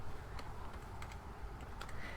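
Rapid clicking of a computer keyboard as a console command is typed in a Left 4 Dead 2 session, steady close keystrokes with no talking.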